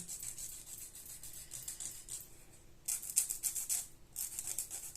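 Fake nails being filed with a nail file: a soft, repeated rasping rub in quick strokes, steady at first, pausing briefly and then returning louder and closer, with no talking.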